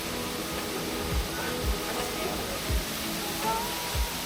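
Waterfall at Emerald Pool, heard as a steady broadband rush of falling water that fills the whole clip, with a few faint low thumps underneath.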